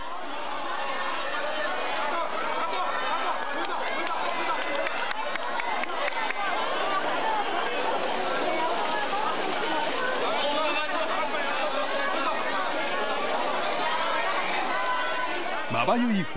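Over 500 fans and press greet the returning Japanese Vancouver Olympic team at Narita Airport: steady loud crowd cheering and chatter, dense clicking camera shutters and flashes throughout, with speech mixed into the din.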